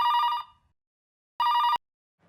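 An indoor telephone bell rings in two short, loud trilling bursts separated by a silent pause.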